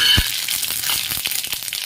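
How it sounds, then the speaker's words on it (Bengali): Cumin seeds dropped into hot oil in a kadai, a bright crackling sizzle with quick popping bursts, close and steady over about two seconds. "তেল গরম হয়ে গেছে। এতে অ্যাড করে দেবো জিরে"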